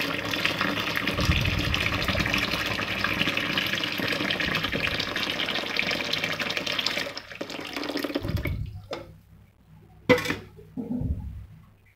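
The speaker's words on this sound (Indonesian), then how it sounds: "Kemudian kita masukkan air panas." Hot water poured into a bucket of water for cloth diaper stripping, a steady close gushing fill that stops, followed by a few brief splashes.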